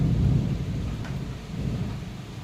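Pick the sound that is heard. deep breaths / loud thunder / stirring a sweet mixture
loud thunder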